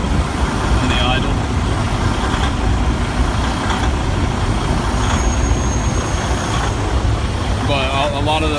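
A Freightliner truck's engine idles close by in a steady, dense low rumble, with brief hissy bursts and faint voices mixed in throughout.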